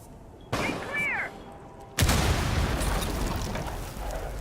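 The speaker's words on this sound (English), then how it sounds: "We've already heard some explosions going off" Explosions in a Rainbow Six Siege tournament match, a loud booming blast after a short electronic whine, followed by a sustained rumbling roar that fills the rest of the moment.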